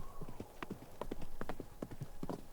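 Horse hooves gallop in a quick, uneven clip-clop rhythm, each hoofbeat sharp and close, continuing steadily across the whole stretch with no talking.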